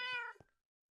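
A single short cat meow, loud and close, followed by a soft tap and then silence.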